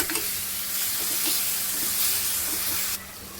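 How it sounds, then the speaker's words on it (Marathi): Ridge gourd sizzles steadily in hot oil for Marathi bharit, a continuous close frying hiss with light stirring clicks that drops abruptly near the end. "मिक्स करून घेऊया आणि 5 मिनिटं आपल्याला असंच तेलामध्ये भाजू द्यायचं आहे"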